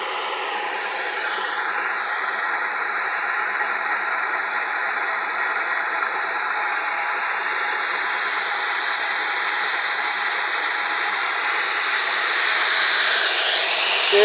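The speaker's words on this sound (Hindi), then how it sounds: "तीन HP का मोटर चला रहे हैं इसके ऊपर" A 3 HP electric motor drives a magnet-based free-energy generator, giving a loud, close, unbroken mechanical whir that holds steady throughout and swells slightly near the end.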